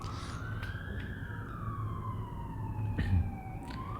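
An ambulance siren passing on the street outside, a continuous wailing tone that slowly rises and falls over steady traffic rumble, fairly close and loud, with no voices.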